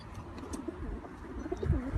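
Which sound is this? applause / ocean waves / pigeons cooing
pigeons cooing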